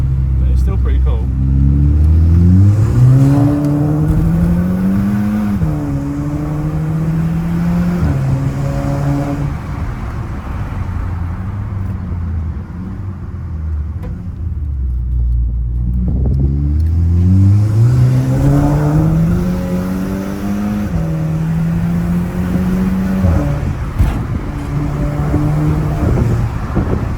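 A Volkswagen Mk5 GTI engine with an anti-surge K04 turbo revs repeatedly, rising and falling in pitch through a couple of long pulls, loud and close with a throaty exhaust.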